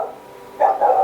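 A pet dog gives two quick barks in a row at a moderate distance, short and fairly loud against a quiet room.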